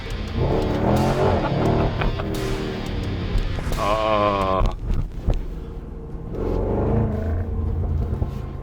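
A supercharged 5.0-litre V8 Range Rover Sport SVR revs and rumbles loudly through its exhaust, rising and falling in pitch with a few sharp bursts, with a voice briefly talking over it.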